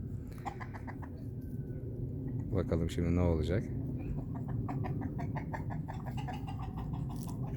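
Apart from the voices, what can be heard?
ornamental chickens and rooster clucking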